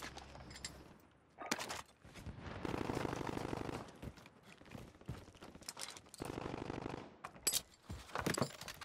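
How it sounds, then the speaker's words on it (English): Gunfire in Call of Duty: Modern Warfare: bursts of rapid automatic fire and scattered single shots, loud and near, interrupted by short gaps. "we got shooting very close to us in that vicinity."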